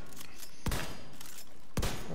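Shotgun fire in the video game The Division 2: two loud, sharp blasts about a second apart, with fainter gunfire crackling between them and no voices.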